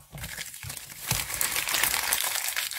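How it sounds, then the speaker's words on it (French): Paper wrapping around a chocolate gift crinkles and rustles continuously at close range, with a louder burst of crumpling midway and no talking. "Désolée pour le bruit des papiers."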